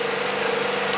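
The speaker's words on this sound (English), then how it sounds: "Step one is turning on our LS3 Corvette engine." A 430-horsepower LS3 Corvette V8 powering the Megabot giant robot runs with a steady, loud, close drone for about a second, with no voices.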